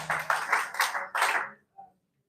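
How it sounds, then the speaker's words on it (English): A small group claps in several short bursts of quick hand claps, close and fairly crisp, before stopping abruptly, with a brief faint voice afterward. "Yeah, again, clap for her."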